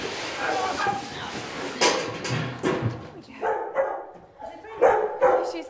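A nervous dog in an airport quarantine dog wing barks and yips in short bursts amid people talking, with clattering handling noises close by.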